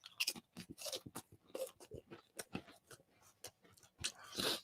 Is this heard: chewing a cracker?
yes